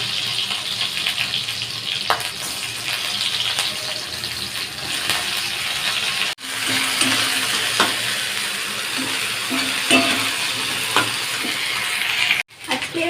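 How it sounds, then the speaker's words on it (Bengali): Potatoes with green chillies frying in a pan give a steady broadband sizzle with occasional scrapes and clicks of a utensil, continuous throughout and fairly close, with no one speaking. "তারপর আলুগুলো আগে একটু ভেজে নেবো"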